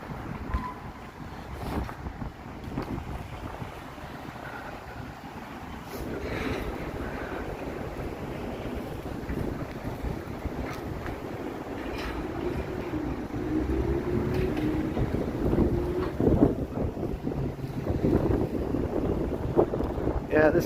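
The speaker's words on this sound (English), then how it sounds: "this is like the wind tunnel effect because we have all these tall buildings around us here" Strong wind gusting between tall buildings in downtown Toronto on a cold evening, a steady broadband roar that builds louder toward the end, with faint street background beneath.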